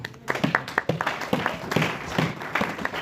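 A church congregation applauds in a brief burst of dense, lively clapping with uneven individual claps standing out, fairly close and loud, and faint voices mixed in.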